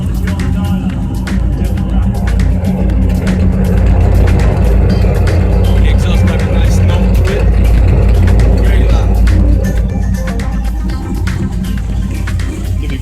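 A 2002 Chevrolet Camaro SS/SLP with an LS1 V8 runs close by in Brooklyn, New York, giving a loud, deep, continuous engine rumble that holds steady throughout.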